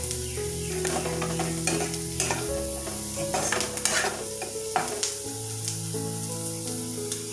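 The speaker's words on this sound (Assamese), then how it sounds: "এতিয়া ভালদৰে লৰাই ল'ম।" Onions and fresh green chillies sizzle in hot oil in a pan while a utensil stirs them, a steady loud frying hiss with scraping strokes throughout and no talking.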